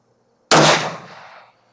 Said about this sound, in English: Gonna shoot a 5-shot group at the A zone of that target down there.